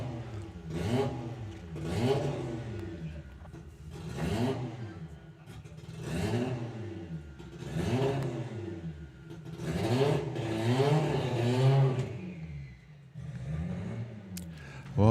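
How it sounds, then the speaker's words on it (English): Drag racing cars at the Greenlight Nationals struggle to start, repeated rising and falling engine cranks and revs in a regular rhythm of about one every two seconds, fairly loud and close. "But I'm hearing cars struggling to start underneath us."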